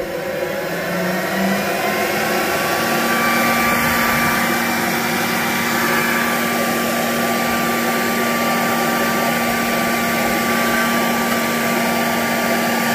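Air rushes steadily through a fully extended hose, a constant close whooshing hiss with a faint hum, holding evenly for the whole stretch with no voices.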